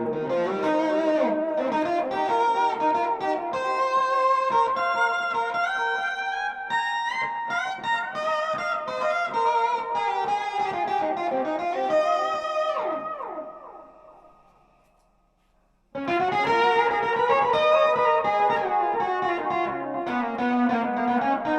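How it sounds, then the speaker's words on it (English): Electric guitar played through Angry Fuzz and Tubescreamer pedals with delay and extra reverb, dense sustained distorted chords and swelling lines that smear into a fading wash, then drop out briefly before the loud fuzzy playing returns. "let's turn the Angry Fuzz on, the Tubescreamer"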